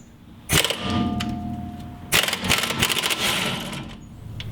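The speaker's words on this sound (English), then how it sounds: "just use a 17mm socket and then either an impact wrench or ratchet and remove that bolt" A coilover strut bolt being removed with a 17mm socket and an impact wrench or ratchet produces two loud bursts of mechanical rattling and clicking, with a sharp metallic crack at the start of each burst, close up.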